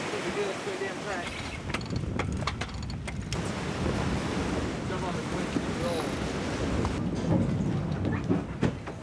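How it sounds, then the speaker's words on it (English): Ocean waves and strong wind on the Labrador Sea surge steadily around a boat, a loud continuous wash with buffeting wind noise and faint voices underneath. "Waves."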